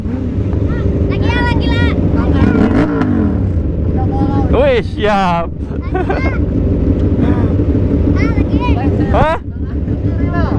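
A Kawasaki ZX25R with a Leovince LV10 underbelly exhaust revs hard and close in a loud, sustained roar through wind buffeting, while people exclaim briefly over it.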